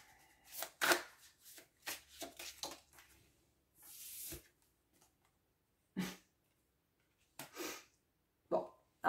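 Tarot cards are shuffled and drawn from a deck in short separate bursts, close and soft, with quiet pauses between the rustles and a few sharper flicks.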